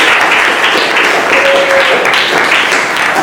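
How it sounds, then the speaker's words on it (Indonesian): Loud, close classroom applause from many students clapping together in a steady, dense patter for several seconds. "Tepuk tangan buat Taki."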